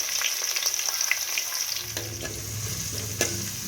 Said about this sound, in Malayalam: അമ്മ ഉള്ളി കിണ്ടിക്കൊണ്ടിരിക്കുകയാണ്.